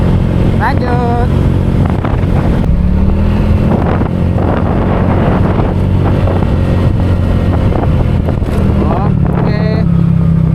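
Honda PCX 150 scooter riding along a road on a solo tour, a steady engine drone with strong wind rush across the microphone throughout, a brief chirping sound near the start and end.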